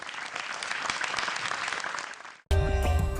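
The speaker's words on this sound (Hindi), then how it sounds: "हमारे जजेस, हमारे एक्सपर्ट और हमारी जोड़ियों के लिए एक बार फिर से जोरदार तालियां" Loud, dense applause from a television comedy show audience fills most of the stretch, then cuts off abruptly into a burst of music.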